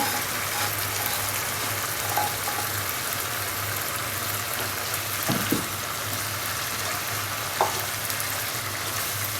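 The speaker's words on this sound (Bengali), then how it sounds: "এখন এর মধ্যেখানে আমি আমার সেই রূপচাঁদা মাছ ফ্রাই করাটা ঢেলে দিব। যা তেল থাকবে সব কিছু দিয়ে দিব।" Fried rupchanda pomfret tipped with its oil into a pan of masala sizzles loudly and steadily, a dense close-up hiss with a few small pops and clinks, and nobody speaks.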